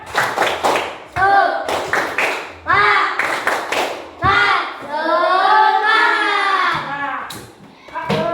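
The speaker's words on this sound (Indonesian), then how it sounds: "coba kita tepuk semangat dulu" A group in a job-training session does a rhythmic spirit clapping chant, sharp patterned claps mixed with voices chanting together, loud and close.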